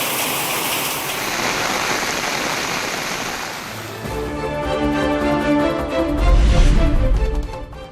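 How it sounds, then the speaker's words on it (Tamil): Heavy rain in the Aranthangi area of Pudukkottai district, a loud continuous downpour hiss that shifts into a deeper rumbling wash of water with tonal background sounds in the second half. "புதுக்கோட்டை மாவட்டம் அறந்தாங்கி சுற்றுவட்டார பகுதிகளில் கனமழை"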